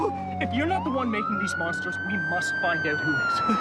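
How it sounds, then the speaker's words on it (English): An emergency siren wails in rising and falling sweeps, steady and fairly loud, while a person talks over it. "No, wait, sir, that's just a siren!"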